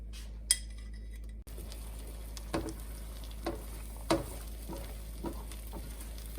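Eggs scrambling in a hot pan for chicken fried rice, a soft steady sizzle under repeated light clinks and scrapes of a utensil against the pan, no talking.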